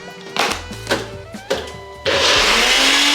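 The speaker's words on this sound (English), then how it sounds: "Blended it for a little bit." A blender whirs a batch of buffalo hot sauce, first in a few short pulses with knocks between, then settling into one loud, continuous high-speed blend close by.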